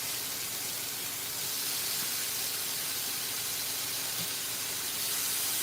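Thin bacon frying until crispy in a pan gives a continuous soft hiss and spatter, steady and close, with a slight swell partway through and no voices.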